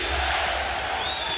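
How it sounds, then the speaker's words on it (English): A basketball arena crowd stands and chants during a Lakers–Nuggets playoff game, a dense, steady roar of many voices with a faint whistle-like tone rising near the end. "Crowd on its feet chanting defense"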